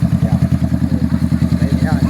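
Motorcycle engine pulsing with a steady, rapid low throb throughout, close and loud, as if idling or lightly revving at a group ride in San Pascual, Batangas.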